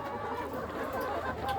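About 500 egg-laying hens on a poultry farm in Syrdarya region, Uzbekistan, a dense chorus of overlapping clucks and cackles filling the space continuously.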